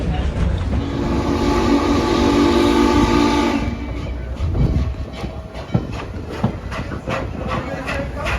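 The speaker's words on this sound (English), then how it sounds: "that was 611 blowing a whistle for a crossing" Norfolk and Western 611, a steam locomotive on the Strasburg Railroad, sounds a loud, sustained whistle for a crossing for a few seconds, then the whistle cuts off and the rhythmic clatter of the rolling train carries on.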